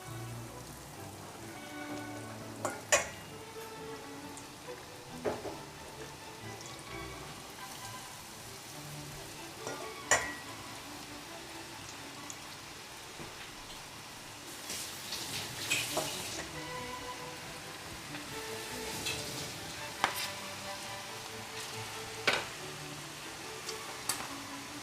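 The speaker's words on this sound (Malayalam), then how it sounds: "എണ്ണ ചൂടായിട്ടുണ്ട്. ഇതിലേക്ക് കുറേശ്ശെയായി ഇട്ട് കൊടുത്ത് വറുത്തെടുക്കാം." Okra (bhindi) pieces for crispy kurkuri fry crackle in hot oil over a medium flame. The sound is a steady rain-like hiss with sharp pops scattered throughout, and no voices are heard.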